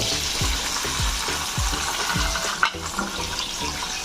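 Onion, ginger and garlic fry in leftover egg-frying oil in a kadai on a gas stove, giving a steady, loud, close sizzle with a few clinks of utensil against the pan.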